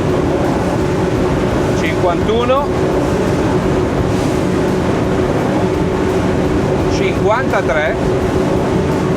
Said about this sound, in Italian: quindi giù tutto, sentite i motori,